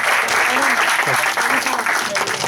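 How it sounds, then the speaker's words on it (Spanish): An audience breaks into vigorous, dense applause for the host at a talk, a loud continuous wash of clapping with voices audible underneath. "quiero dar las gracias y un aplauso para la jefa."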